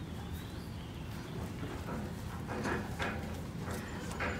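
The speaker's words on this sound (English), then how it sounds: "is our friend's horse that I'm here with" A horse moves at a campsite in a river valley, its hooves giving a few soft, irregular clip-clop steps close by over a steady outdoor background hum, with no one speaking.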